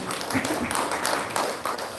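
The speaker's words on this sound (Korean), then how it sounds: "영광의 박수 드립니다." A congregation at a Sunday worship service in a Korean Holiness church breaks into dense, continuous applause, a thick wash of many hands clapping at once filling the room.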